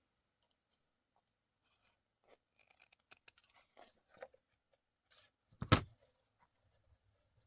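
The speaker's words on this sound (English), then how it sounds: "so I'm going to just cut the one off, or cut it down at least" Scissors snip through a piece of faux tin sign material for a Christmas junk journal embellishment, a few quiet scratchy clicks leading to one sharper close cut, with near silence around them.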